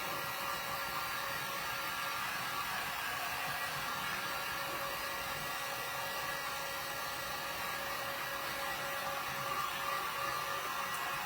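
A hair dryer blows steadily and loudly the whole time, drying freshly painted gold craft pieces for a beaded Christmas tree decoration, with an unbroken rushing hiss and no voices.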